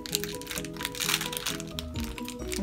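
A plastic blind bag for an LOL Surprise Snuggle Babe doll is pulled open up close, giving a continuous loud crinkling and crackling of plastic for a few seconds without speech.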